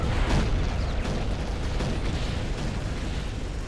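A power node blows apart in an Unreal Tournament 2004 online match, a loud rumbling blast that swells at the start and then rolls on as a dense, decaying roar.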